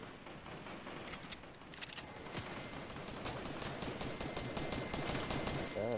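Rapid gunfire in the video game Fortnite: dense, continuous bursts of shots crackling without pause, loud and steady throughout with no voices.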